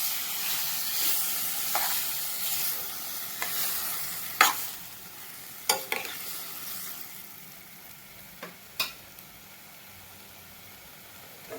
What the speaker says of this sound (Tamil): இதையும் வதக்கி கொடுக்கலாம்